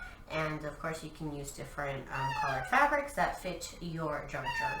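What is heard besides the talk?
cat crying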